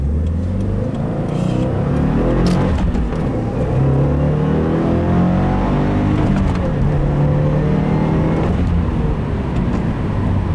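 A 2015 Subaru WRX with a Stage 1 map pulls hard in first gear from low revs, rumbling loudly and continuously as it accelerates up through the gear, close and steady throughout.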